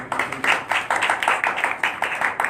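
Steady applause for a pastor at an all-night prayer gathering, close rhythmic hand clapping from a group, loud and continuous with a few voices mixed in.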